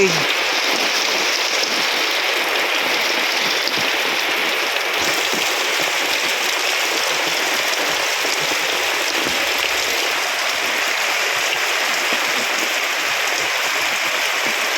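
Heavy monsoon rain pours down on Sagar town, Karnataka, in a dense, constant roar, loud and unbroken throughout.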